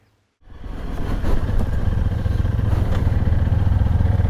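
Three Honda CRF300 motorcycles and a Yamaha Tenere start up and pull away on a trail ride, engines rising from silence into a steady, loud, close rumble that holds with no speech.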